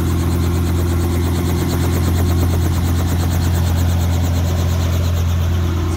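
Helicopter rotor spinning fast in a video game, a loud, close, continuous engine roar with a rapid pulsing chop over a deep steady hum, with no talk.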